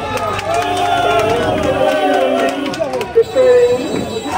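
A dense crowd of voters and supporters packs a polling area at a local election, with loud continuous babble and shouting all around and a brief whistle-like squeal cutting through near the end.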